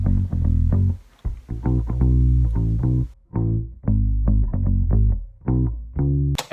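A clean bass guitar plays a bouncy line of short plucked notes in an indie-pop style, standing alone with brief gaps and rests between phrases.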